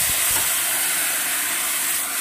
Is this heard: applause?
no